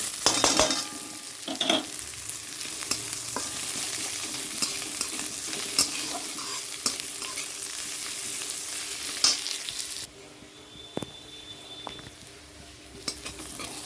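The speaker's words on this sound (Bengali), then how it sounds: "রসুনটা একটু ভাজা হলে না গন্ধটাতে ভাল লাগবে আচ্ছা তারপরে পেঁয়াজ দিয়ে দিচ্ছি" Garlic and onion frying in oil in a pan, a continuous crackling sizzle with scattered pops and occasional clinks of a utensil stirring, quieter for the last few seconds.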